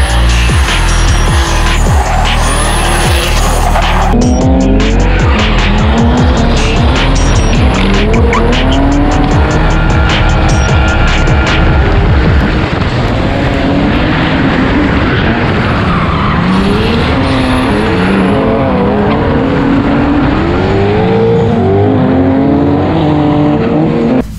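A car drifting on a track with loud, sustained tire squeal and skidding over a revving engine, the screeching pitch rising and falling through repeated slides, close and dominant with no talk.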